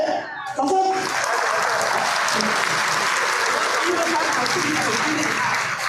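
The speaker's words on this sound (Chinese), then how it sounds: "谢谢，掌声" Audience applause rises after a brief spoken word at a dragon boat championship ceremony, a loud dense clapping that swells quickly and holds steady to the end.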